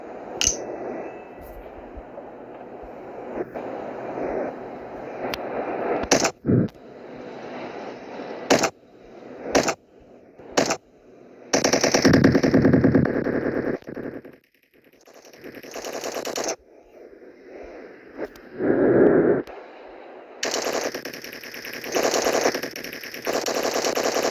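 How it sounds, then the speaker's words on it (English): Cartoon gunfire aimed at four Sprunki characters: bursts of rapid machine-gun fire and sharp single shots, loud and close, separated by brief gaps and other cartoon sound effects, no speech. "The man ended up shooting all 4 Sprunkies."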